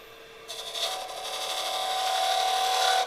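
A wood lathe hums at 2200 RPM as a finishing tool scrapes steadily against a spinning hardwood pen blank, producing a continuous hissing rasp that slowly grows louder.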